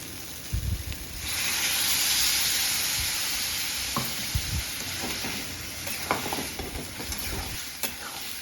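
Water hits a pan of spiced jackfruit frying with chickpeas and sets off a sudden loud sizzling hiss that slowly subsides. Stirring clatters and scrapes run before and after it.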